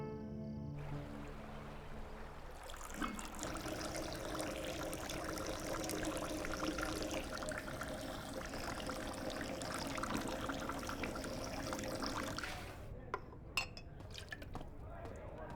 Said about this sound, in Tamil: இந்த டீயை கூட எவ்வளவு ஸ்மூத்தா ஊத்துறாங்க